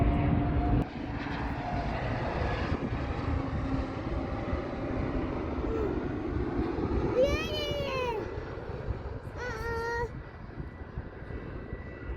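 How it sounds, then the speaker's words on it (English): Loud, continuous jet engine roar from airplanes landing and taking off at Perth airport, with children's voices and a few high-pitched squeals over the engine noise. "the kids' request was to watch the planes landing and taking off at the airport."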